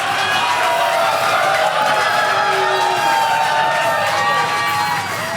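A live audience at a Pathfinder 2E tabletop game show in Minnesota cheers, whoops and shouts loudly and continuously for a character named Pepsi, a dense, sustained roar of many voices filling the room.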